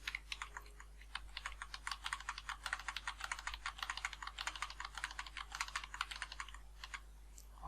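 Rapid, steady typing on a computer keyboard, a dense run of close, crisp key clicks with no talking over it.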